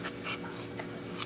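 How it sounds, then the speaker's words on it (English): A dog pants steadily with soft whimpers, close by, in a noisy indoor room. "Can somebody get this fucking dog with me?"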